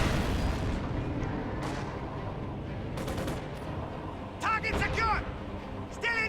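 Gunfire and shell impacts in a tank video game arrive as muffled booms and cracks over a constant rumble, with a sharper burst of hits near the end and a voice speaking over them.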